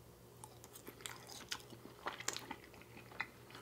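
Homemade Baconator fries topped with bacon and cheese sauce being bitten and chewed close up, with several soft crunches and wet squishy chews spread across a few seconds, no talking.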